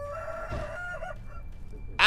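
A chicken in Sekiro: Shadows Die Twice gives a brief clucking call, followed near the end by a sudden loud squawking burst over quiet game ambience.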